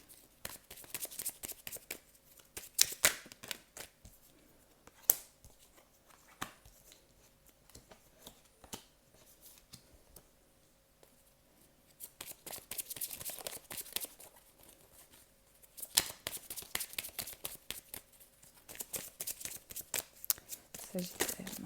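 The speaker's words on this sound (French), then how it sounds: "on va faire un dernier tirage avec le Gilded et après on changera" Tarot oracle cards from a Gilded deck shuffled by hand at close range, soft riffling and sliding bursts that come and go with quiet gaps, a few sharper card snaps standing out.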